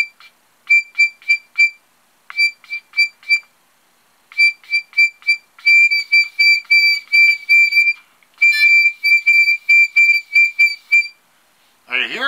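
A harmonica imitates a bird call by trilling a single note with rapid tongue movement, producing bursts of quick, bright pulses in short groups and longer runs, loud and close with brief pauses between phrases.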